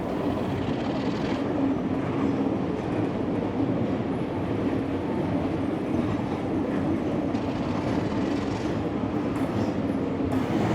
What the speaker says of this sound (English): The Society's 44 class diesel locomotive 4403 is at the back of the train